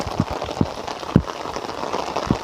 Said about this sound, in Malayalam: നല്ല മഴ, കാസർഗോഡ് നല്ല മഴയാണ്